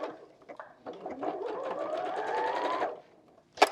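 A sewing machine straight-stitches fabric for a dog toy, a close rapid whirring run of about two seconds after a few starting taps, ending with a sharp click.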